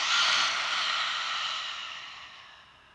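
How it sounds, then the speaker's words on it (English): A long exhale through the mouth during a yin yoga session, a soft breathy hiss that fades steadily over three seconds, heard up close and alone. "Inhale through the nose and exhale through the mouth"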